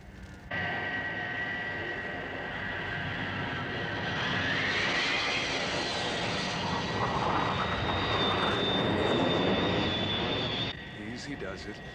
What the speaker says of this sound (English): Flaps down. Banking for final approach.